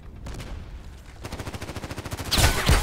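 Gunfire from the Contract Wars online shooter, a run of rapid regular shots building in loudness with two heavier blasts near the end, no talk.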